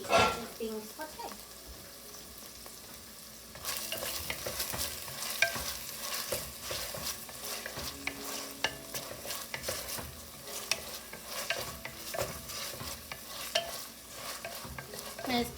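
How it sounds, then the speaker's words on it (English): Vegetables for chicken tortilla soup sauté in a pot, a steady close sizzle broken by repeated scraping and clinking of a stirring utensil, growing busier after a few seconds and running on without talk. "So keep an eye on your veggies as it's being sauteed."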